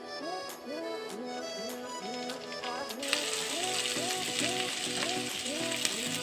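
Onion and garlic warm in a pan for tomato soup, giving a steady sizzle that turns into a louder, brighter hiss about halfway through. Repeating tonal chirps run under it throughout.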